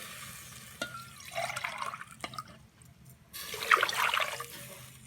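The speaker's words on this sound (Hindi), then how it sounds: "हम डालने लगे हैं 3 गिलास पानी के" Water poured from a glass into a pot of masala for biryani, splashing and gurgling in two separate pours over a quiet low hum, close and moderately loud.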